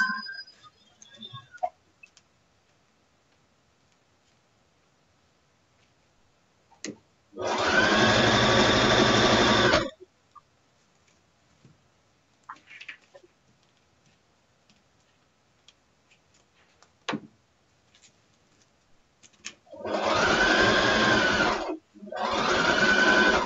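A home sewing machine stitching during a craft session, in two loud sustained whirring bursts of a few seconds each, separated by quiet stretches with occasional small clicks and handling noises.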